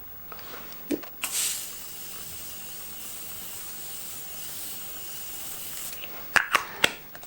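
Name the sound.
Morphe setting spray being sprayed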